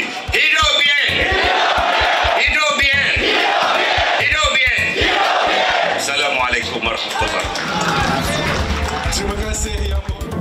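A large crowd at a Johor state election political rally shouts a chant in unison, loud bursts of massed voices repeating with a rally leader's amplified voice leading between them.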